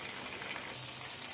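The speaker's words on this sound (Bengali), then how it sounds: "এবার দ্বিতীয় সাইডটা আমি এভাবে উল্টে দিয়েছি যে ভালো করে ভেজে নিই।" Fish fillets sizzle steadily in hot oil after being turned to fry the second side, a dense, continuous crackle close up with no voices.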